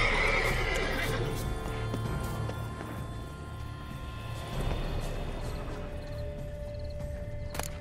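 A horse in The Witcher 3: Blood and Wine whinnies loudly up close, followed by snorting and a few hoof clops, with faint background tones.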